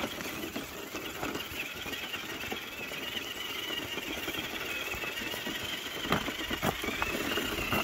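Traxxas TRX-4 High Trail Edition RC crawler held at full throttle while mudding, a steady whining electric motor drone lasting throughout, with rough crackly texture and a few louder bumps near the end, no speech.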